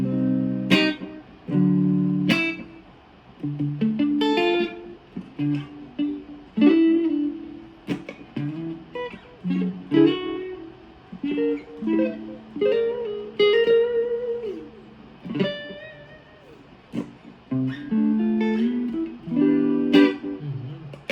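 A Busker's Japanese-brand electric guitar in clean tone plays a loose sequence of plucked notes and chords, each ringing clearly before decaying, with short pauses between phrases and no voices.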